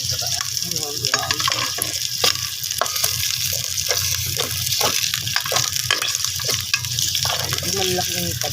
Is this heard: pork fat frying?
yes